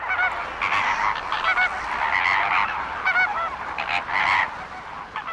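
A dense chorus of loud, overlapping goose-like honks from a large flock of flamingos, continuous and clamorous with no voices.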